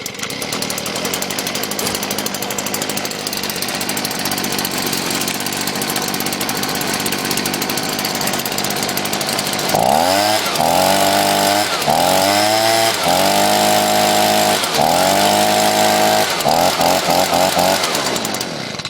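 A small gas engine on a piece of winter lawn equipment, an SRM210, cold-starts outdoors in the snow after two pulls, settling into a loud, buzzing idle with repeated throttle blips over steady background noise.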